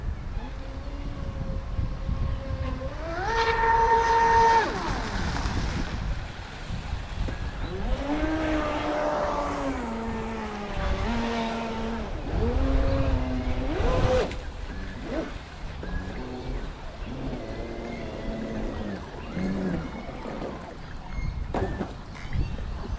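A giant 51-inch TFL Princess radio-controlled model boat on a 14s 58-volt setup runs on water, its motor whining up and down in rising and falling pitch sweeps as it speeds past, loud and near with splashy wash.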